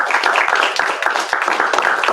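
Applause follows a music showcase, a dense wash of many hands clapping continuously and fairly close, steady in level throughout with no voices breaking through.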